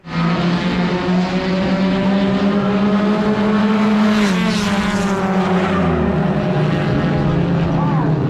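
Race car engines roar steadily through a heat race at New Smyrna Speedway, a loud sustained drone with pitch sweeping up and down as cars pass, under a layer of commentary talk.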